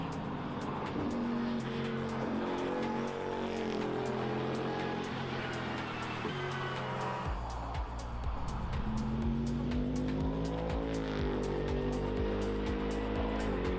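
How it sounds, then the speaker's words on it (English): Toyota GR GT3 race car driving at the Nürburgring, a sustained engine roar with rising and falling revs and a gear change partway through, loud and continuous. "Toyota GR GT3. And this is the next GT3 car?"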